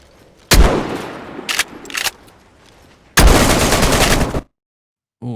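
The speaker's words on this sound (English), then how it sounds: "Oh, that's an AK." AK rifle fire in a video game: sharp close bursts of automatic shots, a few short volleys then a longer burst, ending abruptly in silence.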